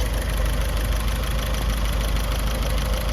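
A hot Sunbeam Alpine engine idles steadily close by, a continuous low rumble with a fast, even knocking pulse and no pauses.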